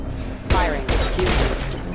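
Dense bursts of weapon fire in the Mass Effect 2 video game crackle in quick succession, loud and close, over a constant background of combat noise.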